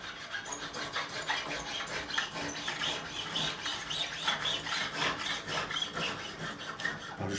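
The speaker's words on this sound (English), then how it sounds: "Swiss file by Valorbe, my favourite file this is." A Swiss Vallorbe flat file rasps back and forth over guitar frets during a Fender Strat refret, a steady run of close, rhythmic scraping strokes with no talk.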